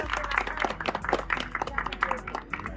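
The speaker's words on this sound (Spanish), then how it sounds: "Denle un aplauso a Toga." Audience applause at a cosplay contest at an otaku bazaar in Tampico, a steady patter of clapping running under a host's amplified voice throughout.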